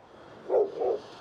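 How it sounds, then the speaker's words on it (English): A dog barks twice in quick succession somewhere behind, at a hillside lookout in the Mach Loop low fly zone, with steady wind and outdoor ambience around it. "Got a dog going mental behind us."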